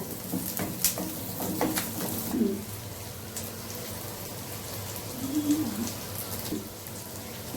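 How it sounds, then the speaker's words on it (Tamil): Onions sauté in a pan over medium heat for a village-style mint and coriander chutney, giving a soft, steady sizzle like light rain. A few faint background sounds rise briefly above it. "வெங்காயம் பாருங்கள், மீடியம்லேயே வச்சு வணக்குங்க"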